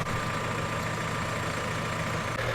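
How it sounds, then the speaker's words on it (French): A tractor engine idles steadily in a vineyard while sylvaner vines are planted with a GPS-guided Wagner planting machine, a constant low rumble with a faint whine, unchanging throughout. "Le tracteur est en position."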